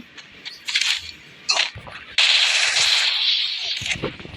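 Gunfire in the mobile game Free Fire crackles in short bursts, then a loud sustained volley of rapid shots close up, with game sounds in between.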